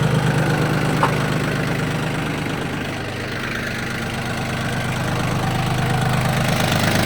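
The small diesel engine of a Yanmar F18D mini tractor idles steadily nearby, a smooth, even chugging drone that holds constant throughout.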